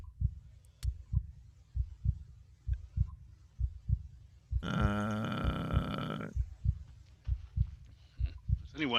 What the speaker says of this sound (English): Is anyone else hearing a thrumming of a heartbeat besides me?